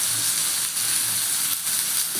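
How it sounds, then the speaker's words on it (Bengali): Taro pieces frying in a pan with salt and turmeric give a steady, close, even sizzle that runs unbroken with no voices. "আমি এবার দিয়ে দেবো কচুটা। নুন হলুদ দিয়ে আমি একটু ভেজে নেব"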